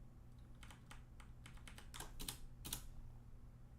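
Keys tapped on a computer keyboard in a quiet room, a short uneven burst of crisp clicks with a few louder strokes near the end, heard alone with no talk.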